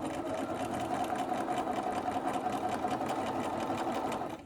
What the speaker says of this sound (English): now I'm gonna back stitch over it